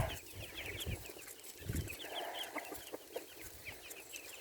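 Chickens cluck and chatter steadily outdoors, with scattered soft calls over a constant background hiss; no clear crowing.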